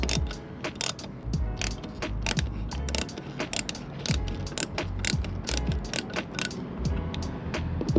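A driver runs gasket bolts snug on a van, giving repeated quick ratcheting whirs and clicks in short bursts, close and fairly clear with no talk.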